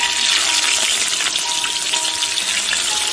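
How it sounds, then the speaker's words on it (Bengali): Shrimp frying in a pan, a close, continuous hiss and crackle of hot oil that stays steady and loud from start to finish, with no talking. "আমি এখন চিংড়িকে ভেজে নিচ্ছি"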